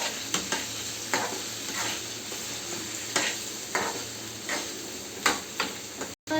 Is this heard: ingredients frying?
yes